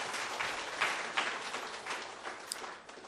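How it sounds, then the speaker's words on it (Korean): A church congregation at a teachers' dedication service gives a sustained round of applause, with the clapping steady and fairly close, rising and falling slightly over a few seconds. "다시 한번 하나님 앞에 영광의 박수 올려드리겠습니다"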